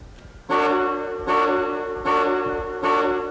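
An early-1980s Cadillac's anti-theft alarm sounds the car horn in four loud, evenly spaced blasts, each lasting about half a second and separated by short gaps.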